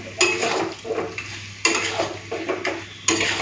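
Mutton cooked with onion, garlic and dried red chilli paste is sautéed in a pot for curry, with loud repeated scraping strokes of a spoon against the pan and a bed of sizzling between them.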